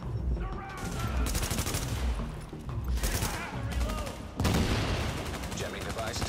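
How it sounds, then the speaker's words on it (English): Dense bursts of automatic gunfire in The Division as players shoot at a jamming device, loud rapid volleys that swell and ease in waves, with game sound and faint voices mixed in. "shoot it if you can shoot it"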